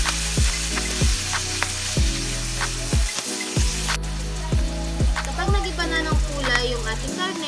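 Meat sautéing with sliced mushroom and browned aromatics in a pan for ginisang sayote, a steady close sizzle and frying hiss under a strong rhythmic music beat, with someone talking over it.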